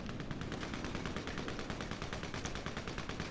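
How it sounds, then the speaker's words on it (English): Rapid automatic gunfire from a video game rattles in quick, even bursts, sounding faint and somewhat distant, with no voices over it. "I can hear Steph's gun going off"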